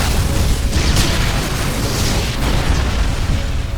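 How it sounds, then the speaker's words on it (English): An explosion of leaking fuel in an anime about a robot, a loud sustained roaring blast with deep rumble and crackling bursts filling the whole moment, with no speech. "the explosion finally happens."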